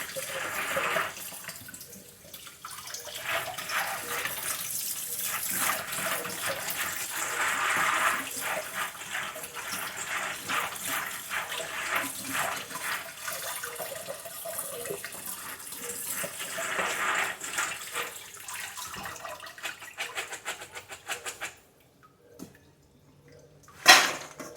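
Tap water running steadily over field peas being rinsed in a kitchen sink for canning, a continuous splashing rush with shifting texture for about twenty seconds, then the flow stops and a single clunk follows.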